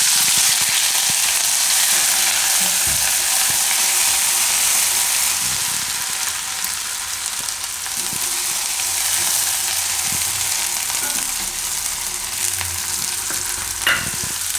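Ginger, chilies and garlic fry in a pan of hot oil with cumin, a steady close sizzle running throughout with occasional stirring clicks and scrapes, no voices.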